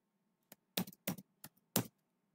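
Keyboard keys clatter in five short bursts as names are typed into an Excel spreadsheet on a computer keyboard, close and crisp with no talking.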